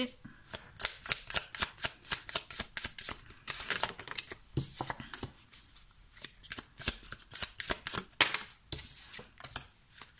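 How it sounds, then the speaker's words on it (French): Oracle cards being shuffled and drawn, three per stone in a crystal reading: a steady run of crisp riffling and snapping bursts, close and fairly loud, with brief pauses between shuffles and no talk over it. "je vais prendre 3 cartes pour chaque pierre"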